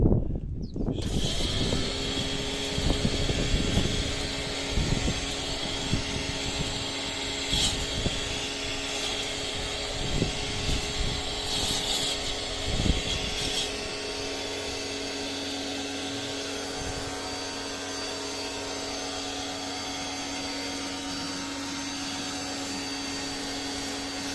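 An Aldi Ferrex 2.4 kW pressure washer fitted with a patio and wall cleaner attachment runs as a steady, loud, close motor whine and hiss, starting abruptly and holding constant for over twenty seconds with no talking.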